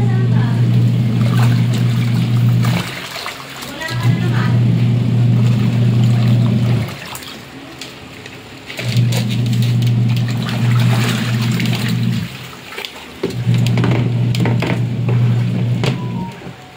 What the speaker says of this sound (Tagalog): so very responsive yung ating washing machine. Kahit maraming tubig, malakas umikot.